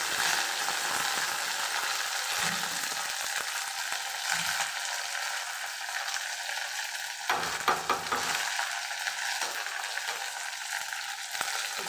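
Fresh coriander goes into hot oil for Maharashtrian kadhi and gives a steady, crackling sizzle that fills the whole stretch. A few soft clinks of stirring break through now and then.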